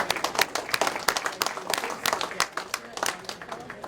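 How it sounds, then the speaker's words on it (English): Applause rings out at a Midland County Sports Hall of Fame induction ceremony, dense clapping from a seated crowd that holds steady and close for about four seconds, with a voice or two mixed in. "How about a round of applause for coming back into the world?"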